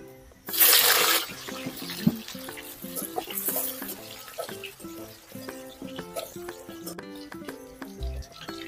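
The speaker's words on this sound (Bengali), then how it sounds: "কাঁচকলাটা ভেজে নেব।" Green plantain drops into hot oil for Bengali dudh sukto, giving a loud sizzling burst that settles into a softer, steady fry beneath tonal background music.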